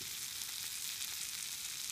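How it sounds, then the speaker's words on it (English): Vegetables cook over a small wood fire with a steady, soft, even sizzle and crackle of frying that continues without pause and with no voices. "You can hear it sizzle."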